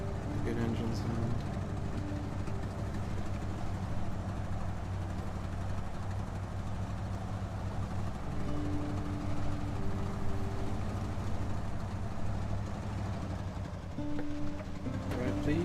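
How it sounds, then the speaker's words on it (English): A truck engine in SnowRunner drones steadily at a low idle-like rumble, quiet and constant beneath someone talking. "So it's nice to hear good engine sound."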